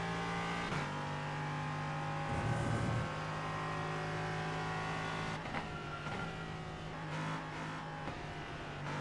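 A sim race car engine in iRacing revs hard near redline, holding a steady high-pitched drone with brief dips at gear changes, loud and close throughout.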